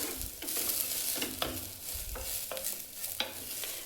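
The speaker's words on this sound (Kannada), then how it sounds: "ಈಗ 1-2 ನಿಮಿಷಗಳ ಕಾಲ ಚೆನ್ನಾಗಿ ತುಪ್ಪದಲ್ಲಿ ಅಕ್ಕಿ ಮತ್ತು ಹೆಸರುಬೇಳೆನ ಫ್ರೈ ಮಾಡ್ಕೊಳ್ಳೋಣ" Rice and moong dal frying in ghee for khara pongal, a steady close sizzle broken by several sharp scraping stirs of a spoon against the pan, with no talk.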